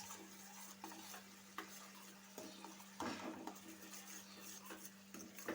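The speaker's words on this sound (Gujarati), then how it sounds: "તેમાં નાખશું આ આદુ અને લસણની પેસ્ટ, કરી લેશું મિક્સ" Chopped onion with ginger-garlic paste cooking in a pan for chhole sabji, a quiet close sizzle under repeated scraping stirs and light clinks of a spoon against the pan.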